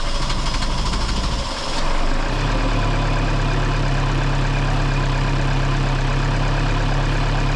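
A boat's diesel engine cranks roughly and then catches, settling into a loud, steady, rumbling run that continues to the end.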